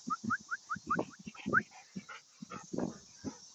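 A wolf dog puppy makes short yips and whimpers in a quick, uneven burst while playing nearby, heard under a person talking.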